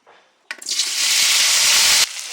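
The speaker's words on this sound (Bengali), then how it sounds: "কড়াই গরম হয়ে গেছে, এখন সর্ষে তেল দিয়ে দেবো। সর্ষে তেল দিয়ে আলুটা ভেজে নেবো।" Potatoes hit hot mustard oil in a wok and burst into a loud, abrupt, hissing sizzle that holds steady for about a second and a half, then drops away, with no talking.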